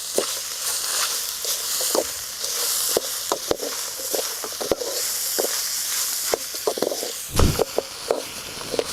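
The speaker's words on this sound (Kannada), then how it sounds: "ಕೊತ್ತಂಬರಿ, ಪುದೀನ ಇಷ್ಟು ಹಾಕಿ ಹುರ್ಕೋಬೇಕು." Coriander and mint, with tomato, fry in a pan for a chicken green gravy, giving a steady close sizzle and hiss broken by scattered sharp crackles and pops, with one louder burst near the end.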